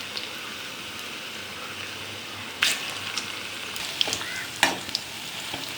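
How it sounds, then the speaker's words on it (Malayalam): Cauliflower pieces frying in oil for gobi fry, a continuous soft sizzle with occasional sharper crackles and pops from stirring, close by and without talk. "ഒരു ക്രിസ്പി കിട്ടാൻ വേണ്ടി ഇത് നമ്മൾ പൊരിച്ച് വെച്ചിട്ട് വീണ്ടും ഒന്നും കൂടെ ഇതിനകത്ത് ഫ്രൈ"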